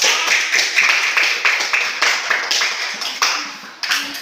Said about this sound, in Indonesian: Tepuk tangan dulu sama kelompok 1.